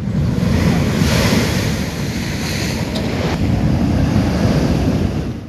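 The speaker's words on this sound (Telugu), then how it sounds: "కాకినాడ జిల్లా ఉప్పాడ తీర ప్రాంతంపై మరోసారి సముద్రపు అలలు విరుచుకుపడుతున్నాయి" Heavy sea waves crash on the Uppada coast in Kakinada district with a loud, continuous roar, while strong wind buffets the microphone throughout and no one speaks.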